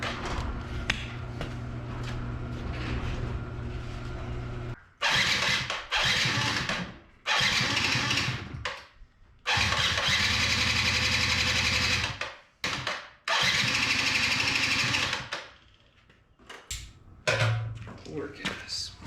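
A 2005 Yamaha YW50 Zuma 50cc scooter engine is started and revved in uneven bursts, loud and close, with gaps and quieter idling stretches between the runs.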